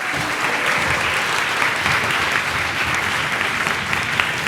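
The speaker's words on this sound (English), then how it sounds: "Quick round of applause, please" A conference audience at PyCon UK 2019 lightning talks breaks into dense, steady applause, a loud crowd of many hands clapping evenly throughout with no clear speech.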